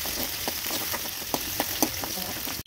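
Onions frying in a pan for dondakaya (ivy gourd) curry, a steady soft sizzle broken by a few light taps of a spoon stirring.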